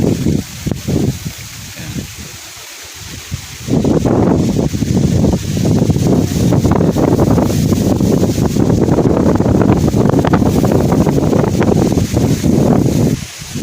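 Strong gusty wind over a rice and calamansi field buffets the microphone, a loud roaring rush that drops briefly then surges back and holds.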